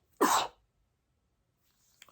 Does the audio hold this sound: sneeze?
yes